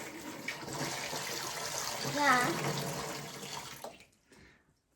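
Running water from a tap filling a tub for floating toys, a steady close splashing rush that cuts off near the end, with a voice briefly heard over it.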